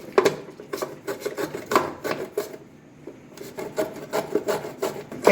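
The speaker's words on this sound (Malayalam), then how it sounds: "ക്യാരറ്റ് നന്നായിട്ട് ഗ്രേറ്റ് ചെയ്യാം." A carrot is rubbed against a kitchen grater for masala puri, giving repeated rasping strokes in quick rhythmic bursts, with a short pause midway before the scraping resumes, close and clear with no talking.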